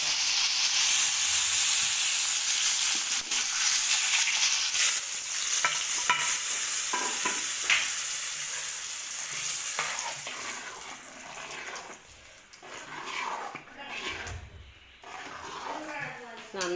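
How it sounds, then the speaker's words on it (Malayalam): Curry leaves, dried red chillies and mustard seeds sizzling in hot coconut oil, with a dense close hiss and crackle and stirring scrapes, while a voice talks over part of it. "പിന്നെ കുറച്ച് കറിവേപ്പില ഇട്ട് കൊടുക്കാം."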